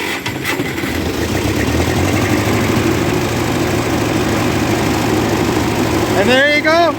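A 1958 Oliver 550 diesel tractor engine running, a loud close rough chugging rumble that holds steady throughout, with a brief rising whine near the end.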